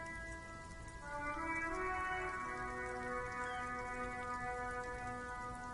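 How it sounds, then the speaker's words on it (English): Rain falls during a traffic jam in the video game Disco Elysium, a steady soft patter layered under sustained, droning musical tones that continue throughout. "Stuck in the rain in a traffic jam,"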